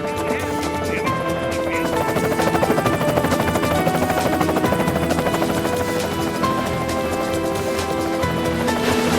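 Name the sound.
helicopter flying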